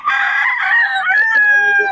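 A Sweater gamefowl rooster crows loudly and close, one long sustained cock-a-doodle-doo filling the moment, with no talk over it.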